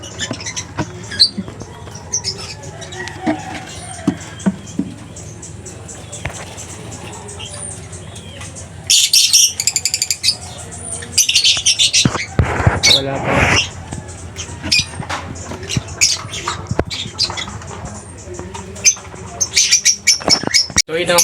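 An albino hen bird in a home breeding setup gives repeated chirps and sharp squawks, loud and close, in bursts over a steady background, with a voice speaking at times.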